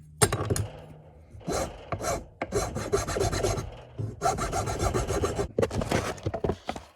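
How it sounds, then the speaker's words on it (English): A rasp shapes a wooden crankbait fishing lure by hand, making close, loud, gritty scraping strokes in bursts of varying length separated by short pauses. "I'm gonna use a rasp."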